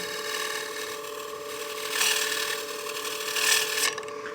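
A wood turning tool slices wood on a spinning lathe while the motor holds a steady, tonal hum. Two soft, rising swells of shaving and rubbing cut in and fade, with no talking.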